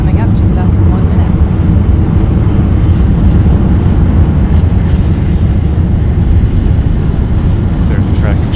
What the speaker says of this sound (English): There's a tracking shot of the rocket ascending from Cape Canaveral on its way to space.